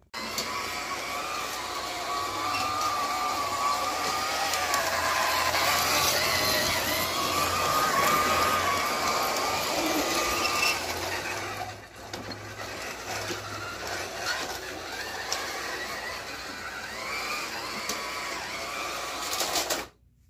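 A Bachmann Rocky Mountain Express model train runs around its track with a steady electric motor whir and a continuous rattling hum that stays close and even, dipping briefly midway.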